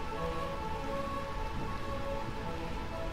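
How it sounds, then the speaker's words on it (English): Steady rain pours over Burmecia, the rain-soaked realm in Final Fantasy IX, a dense, even hiss of falling water that holds constant throughout with no voices. "Bermesia, realm of eternal rain"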